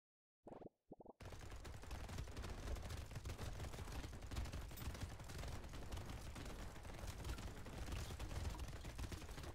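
Gatling laser firing in the Brotato video game, a couple of brief bursts and then a dense, continuous rapid-fire rattle of shots and impacts that runs on steadily, fairly loud, with no talk.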